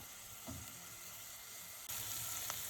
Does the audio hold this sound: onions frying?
yes